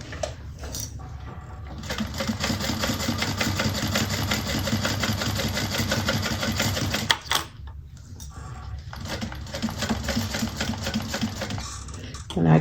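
A sewing machine stitches around the curves of a bag, a steady fast mechanical chatter running for several seconds, a short pause, then more stitching, close and clear.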